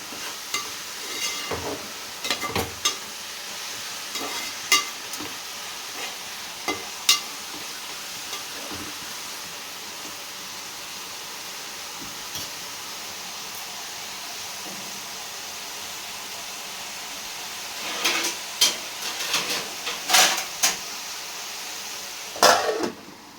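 Sliced onions and drumsticks frying in a pan, a steady close sizzle with scattered stirring clatters and spoon taps that grow busier toward the end.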